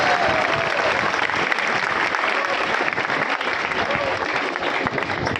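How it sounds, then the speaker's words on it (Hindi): Loud, continuous applause from an audience at an award ceremony at a coaching institute, steady dense clapping throughout with no break. "एक बार जोरदार ताली बजाकर"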